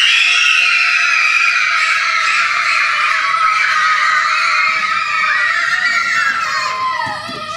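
A group of young children at a playful judo class scream and shout loudly all together as a game, one sustained, dense burst of high-pitched voices lasting several seconds before trailing off slightly at the end.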